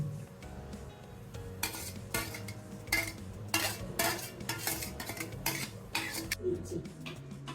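Metal utensils clatter and scrape repeatedly against a cooking pot as tilapia pulao is stirred, giving a close, irregular series of sharp clinks and scrapes with a faint sizzle beneath.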